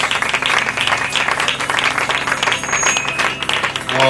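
Congregation applauding in church, a steady wash of many hands clapping throughout, fairly loud, with music underneath and no clear talk.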